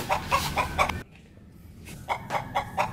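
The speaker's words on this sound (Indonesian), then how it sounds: "Nih lagi ayam berisik banget" Chickens cluck loudly and close by in repeated bursts, with a short quieter pause in the middle before the clucking resumes.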